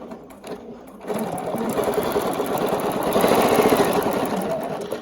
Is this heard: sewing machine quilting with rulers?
yes